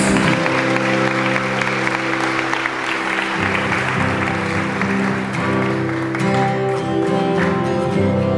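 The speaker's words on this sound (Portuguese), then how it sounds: "Aplauda o nome de Jesus." Church congregation clapping during a celebration service, continuous applause layered over sustained worship music and keyboard tones throughout.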